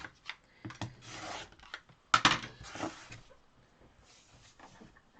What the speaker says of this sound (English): now I'm just squaring up this block and trimming off all this excess fabric.